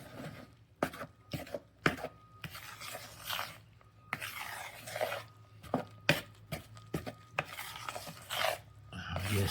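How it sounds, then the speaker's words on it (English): Banana muffin batter with berries and fruit is stirred and folded in a bowl, giving soft wet scraping and irregular knocks of the spoon against the bowl, close and moderately quiet with no talking. "You just lightly mix them just so they're covered, and give that a big stir."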